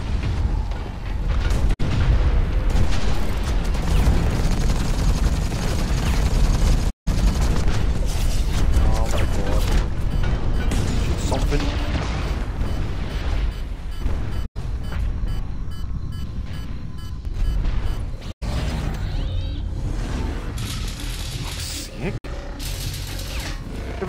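Mech guns fire repeatedly in the video game Hawken amid booming explosions, dense and loud throughout, with short gaps between bursts and a player shouting over the action.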